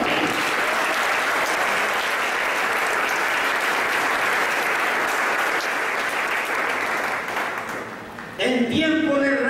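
Loud, sustained applause from a large church congregation fills the whole stretch, dipping briefly before swelling again as a voice cuts in.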